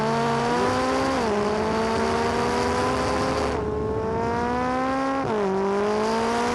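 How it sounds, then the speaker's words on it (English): The twin-turbo V8 of a McLaren 570S supercar accelerates hard through several gear changes, the engine note climbing, dropping at each shift, then climbing again, loud and close. "Twin turbo V8 goes like crazy."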